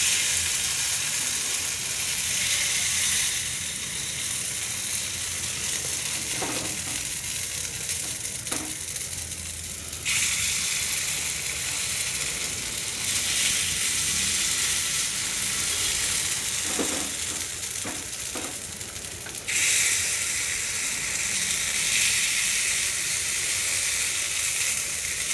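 Paddu batter sizzles loudly and steadily in a paddu pan, a close, continuous frying hiss that briefly shifts in intensity and is broken by a few faint clicks.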